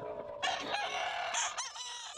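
A rooster crows loudly at a Sunday pet market, with chickens clucking nearby; the crow rises sharply and holds through most of the moment, close and clear with no talking.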